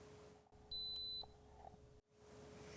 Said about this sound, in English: A sound will alert you when the presser foot is up while pressing the foot